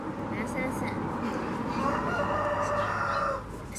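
A turkey gobbles repeatedly near a tree outdoors, with fairly loud, wavering calls over a steady background.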